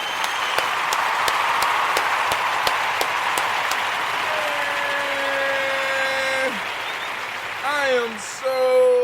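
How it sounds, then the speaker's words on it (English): Morning gathering audience applauds briefly at first with a few sharp claps, then the clapping fades under a steady sustained tone and rising electronic-sounding tones near the end, with voices present. "We want to give all of the Ujima born a round of applause."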